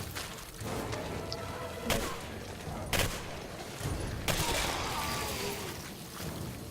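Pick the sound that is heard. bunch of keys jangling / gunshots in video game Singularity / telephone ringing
gunshots in video game Singularity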